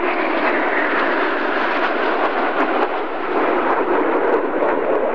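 Mirage III jets fly formation aerobatic rolls at a 1990 air show at Air Base 132, a loud, sustained, roaring engine rush that stays powerful throughout.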